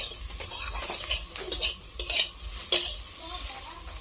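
Egg and potato frying in a pan give a soft sizzle, broken by several sharp clinks and scrapes of a utensil stirring against the pan, close and moderately quiet with no talking.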